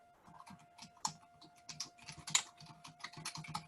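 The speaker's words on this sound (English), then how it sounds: "you can type your message in here" Fast, uneven typing on a computer keyboard, close and fairly quiet, with crisp key clicks in quick bursts and short pauses and a faint steady hum beneath.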